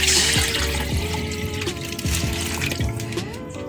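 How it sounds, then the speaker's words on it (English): Tap water poured into a food container holding leftover food in a home kitchen, a steady close splashing stream with gurgling fill tones, no talking. "I'm gonna pour some water on this so that you can get that out."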